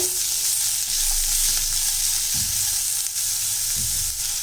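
Onions and green chillies sauté in a pan with a steady, close sizzle, broken twice by short scraping stirs of a spoon, and no one talks.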